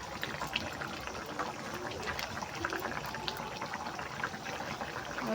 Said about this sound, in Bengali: ঝোল ফুটে গেছে মাছগুলো দিয়ে দিয়েছি